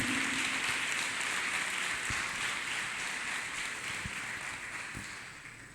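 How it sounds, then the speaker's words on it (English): A church congregation claps hands in a dense, continuous patter of applause that slowly fades toward the end. "Let us clap our hands for Jesus Christ"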